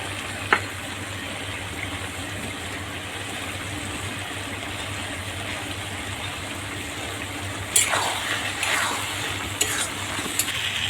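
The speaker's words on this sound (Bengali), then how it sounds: "আমার লতি ভাজা হয়ে গিয়েছে এখন আমি নামিয়ে দিলাম" Taro stolons frying in a pan, with an even continuous sizzle and a few sharp scraping clinks toward the end.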